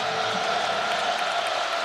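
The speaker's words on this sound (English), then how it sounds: "They're cheering on that Penn State defense" A near 100,000-strong football stadium crowd at Penn State in State College, Pennsylvania roars steadily for the defense, a dense, continuous wash of cheering with no break over the short span.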